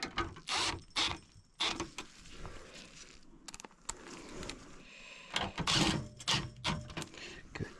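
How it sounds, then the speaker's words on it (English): Mechanical clicking and ratcheting of screws being driven down tight during a heat exchanger repair, a series of close, irregular bursts with brief gaps. "3 screws. Tighten it down completely."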